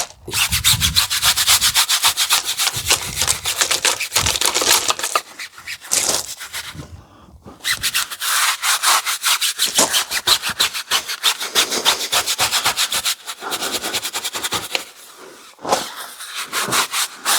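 A semi-rigid bristle brush scrubs a foamy car wheel, producing continuous rapid bristle strokes with rasping friction, close and loud, with brief pauses near the middle and end.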